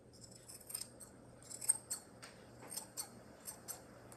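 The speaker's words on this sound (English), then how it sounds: "I can trim those threads along with all the rest of them" Scissors snip the threads of a fabric tassel, a series of quiet, crisp cuts at uneven intervals, close by with nothing else around them.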